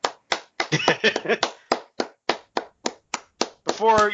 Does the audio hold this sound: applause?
yes